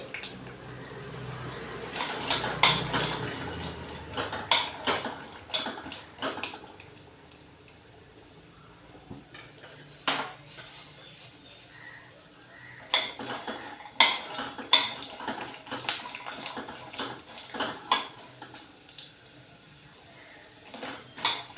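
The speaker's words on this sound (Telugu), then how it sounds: "మనం మినప వడియాలు ఉంచుకున్నాం కదా అవి ఆయిల్లో వేసుకోవాలి" Urad dal vadiyalu frying in hot oil as a metal spoon stirs and scrapes the pan, giving repeated clinks and scrapes over a soft sizzle, close and steady with bursts of activity.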